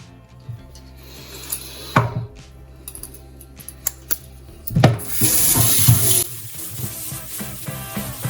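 A dirty filter gets washed under a running kitchen tap, with water splashing and rushing in a steady stream and a few knocks and rubs as it is handled, growing louder when the flow hits the filter near the end.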